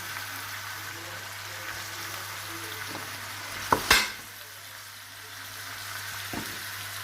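Small tomatoes sizzle gently in a frying pan alongside sea bream, a steady soft crackle with a sharp clatter near the middle from the pan or utensil, and no talking.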